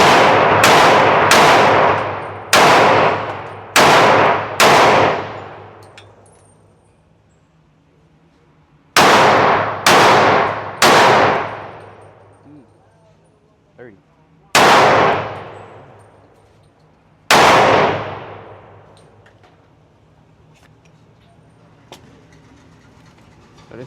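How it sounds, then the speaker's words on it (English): Glock 31 Gen4 pistol firing .357 SIG rounds at a range: ten sharp, very loud reports, some in quick pairs and others spaced by pauses, each with a ringing decay and no voices between them. "So this is our last 10 rounds out of the 357 SIG."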